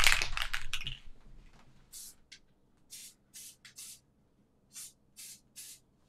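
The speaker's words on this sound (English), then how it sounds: "I'm gonna turn around, we're gonna spray." Craft bond spray adhesive released from an aerosol can in repeated short hissing bursts, several quick sprays in a row with brief pauses, fairly close and clear after an initial louder rustle.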